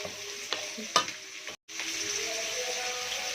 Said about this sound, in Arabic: انا اشوح فيه لغايه ما الرزايه تسخن معايا تمام كده